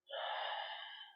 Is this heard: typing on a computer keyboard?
no